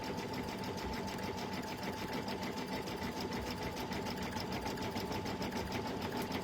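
A home embroidery sewing machine stitches a freestanding embroidery design, its needle hammering in a fast, steady, unbroken rhythm at close range with no talk.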